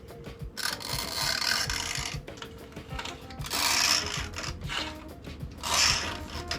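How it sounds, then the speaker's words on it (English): A 1/8-inch drill bit scraping and grinding against steel in repeated gritty strokes while scribing a line for knife making, close up, with mechanical rasping swells and no talking. "I take a drill bit that is also 1/8 of an inch and I scribe it"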